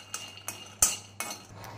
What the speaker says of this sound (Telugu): గుప్పెడు వేరుశనగగుళ్ళు లో ఫ్లేమ్లో పెట్టి మంచిగా వేయించుకోవాలి